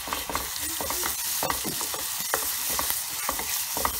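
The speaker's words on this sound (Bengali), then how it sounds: "এখন এর ভিতরে আমি তেজপাতা, দারচিনি, এলাচিটা দিয়ে দিলাম, হালকা নেড়েছে সব মশলাগুলো দিয়ে দিলাম" Bay leaf, cinnamon and cardamom frying in oil in a pan, stirred by hand: a close, steady sizzle broken by frequent sharp scraping and tapping stir strokes in an uneven rhythm, no voices present.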